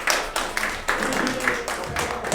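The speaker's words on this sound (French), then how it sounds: "Vous pouvez l'applaudir, oui, effectivement." Audience applause at a French film-night awards evening, steady clapping from a room of people for a couple of seconds with a few louder claps, fairly close.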